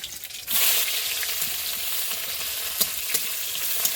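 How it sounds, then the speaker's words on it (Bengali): Onions sizzle and crackle in hot oil, a steady frying hiss with occasional sharper pops as they're stirred. "রসুনটাও মরতে মরতে পেঁয়াজটাও সুন্দর করে ভাজা হয়ে যাবে"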